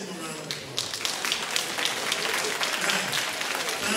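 Crowd applauding at a Christmas party for senior citizens, with a continuous wash of clapping and distinct nearby claps standing out throughout, steady and fairly lively for the full few seconds.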